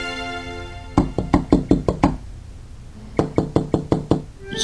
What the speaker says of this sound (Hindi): ये दरवाजे की जगह खिड़की कौन खटखटा रहा है?